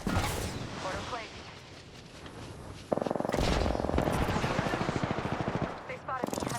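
Rapid automatic gunfire from Apex Legends erupts partway through in a fast, loud, even burst, with a quieter stretch of game sounds before it.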